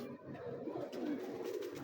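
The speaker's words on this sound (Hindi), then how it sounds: "ए मामदीन कबूतर है" A Mamdeen pigeon coos close by, a soft low throaty warble rolling on through the whole short stretch with no voices over it.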